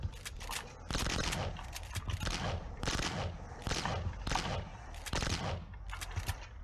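An upgraded shotgun blasting repeatedly in the video game Boxhead 2Play, loud bursty shots arriving in quick clusters roughly every half second to a second with no talk over them.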